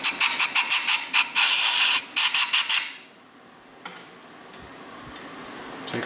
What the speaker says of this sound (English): Take some brake cleaner, blow it out.